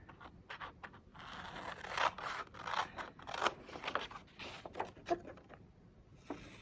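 Repeated crisp snips and crunches of scissors cutting squares out of paper, close by, in an irregular rhythm with soft rustling between cuts.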